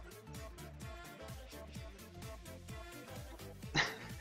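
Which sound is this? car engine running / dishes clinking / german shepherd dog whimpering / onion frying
german shepherd dog whimpering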